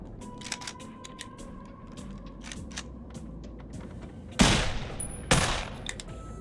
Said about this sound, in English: Someone's shooting me.